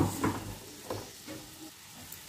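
Roasted, ground masala paste is poured into a pan and gives a soft, low sizzle with faint stirring scrapes, quiet and close, with no voices.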